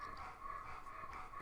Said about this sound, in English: I don't know if you can hear my dog over here breathing heavy